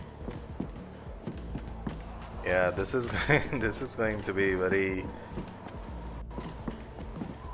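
Horse hooves clip-clop steadily in the video game Conan Exiles, with a loud whinnying neigh rising in the middle, while someone talks over the game sounds.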